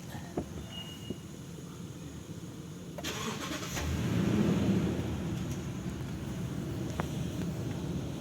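A 2014 Lexus LX 570 engine cranks and catches with a short starter whir, then settles into a low steady idle, recorded close in a quiet space.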